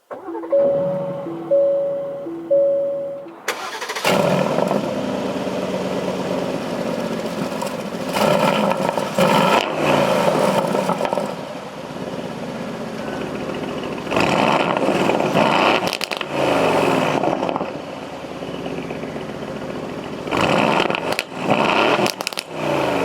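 A 2020 Aston Martin Vantage sounds a few electronic chimes in the cabin, then its engine fires with a sudden loud roar and settles into a strong, throbbing idle broken by several sharp revs, heard from close by.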